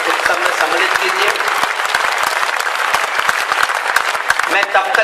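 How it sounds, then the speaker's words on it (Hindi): Loud, dense applause from an audience at a Hindi kavi sammelan poetry gathering, sustained and close with scattered sharper claps throughout. "एक बार जोरदार तालियां बजाकर आप खुद को अपने इस उत्सव में सम्मिलित कीजिए।"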